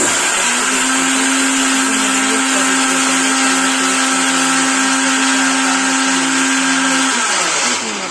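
An electric mixer grinder grinds coconut, coriander seeds, cinnamon and cloves into masala paste, whirring loudly and steadily close by for about seven seconds before winding down.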